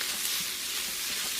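Chopped green onion sizzling in a pan of leftover-rice fried rice with egg and vegetables, an even, close broadband hiss throughout with a small clatter at the very end.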